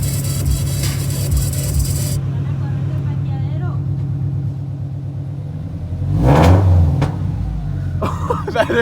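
Revving engine of a Subaru BRZ fitted with new aftermarket headers, a loud, steady rumble that swells into a brief sharper rev near the end, with voices talking over it at first.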